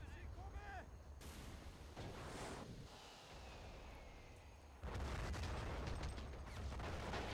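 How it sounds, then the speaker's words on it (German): Gunfire and artillery-style blasts from the Men of War: Assault Squad 2 war game during a Japanese Empire battle at Khalkhin Gol, with sustained rumbling bursts and a louder barrage near the end, constant and dense. "Wo zum Henker kam jetzt der Schuss wieder her?"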